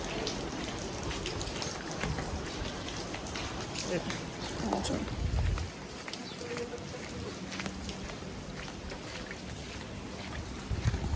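Steady rain falls in a village on a gram panchayat election day, a dense, even patter of drops close by that runs the full length without a break.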